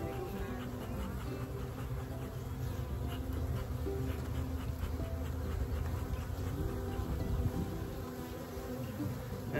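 A honeybee swarm hums in a steady, dense drone, close and continuous, with the buzz of many insects layered throughout and no talking.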